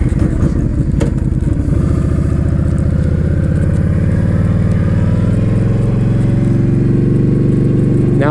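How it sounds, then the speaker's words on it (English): A red Yamaha Stryker factory chopper's engine runs loud and close throughout, a steady low rumble that deepens and builds as the bike pulls away on a ride. "I'm gonna ride the bike home."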